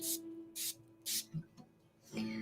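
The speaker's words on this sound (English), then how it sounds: "I did 3 sprays on that" A distress sprayer mists onto a paper craft tag in three short, breathy hissing bursts, close and evenly spaced, followed by soft handling noises.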